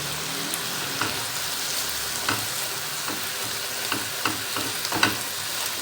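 Fish coated in chilli garlic masala fries in a pan with a steady close sizzle, punctuated by small pops and stirring clicks throughout, with no voices.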